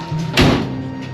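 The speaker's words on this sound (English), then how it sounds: "Shut these doors, bub." A door on a 1955 Chevy Bel Air two-door post pulls shut with a single solid thunk, close by, as a low engine-like hum drones steadily underneath.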